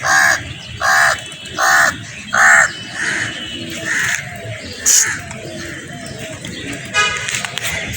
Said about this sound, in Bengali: ওই দেখ কাকও আসছে খেতে